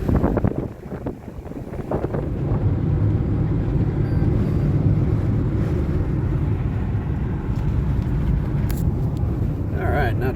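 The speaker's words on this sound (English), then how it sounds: "driving on a beach in New Zealand" A car driving along a beach in New Zealand, producing a loud, steady low rumble mixed with buffeting wind noise throughout, with a person speaking over it.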